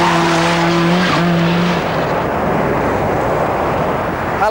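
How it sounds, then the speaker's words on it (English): A 500-horsepower Ford Sierra drives past, its loud engine roar heard with a steady high tone that drops away partway through, followed by a continuous rushing blare. "a not-so-humble Ford Sierra with 500 horsepower to play with"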